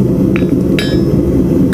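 Hammer blows on a steel horseshoe being modified at the anvil, a few sharp metallic clinks over a steady low background hum.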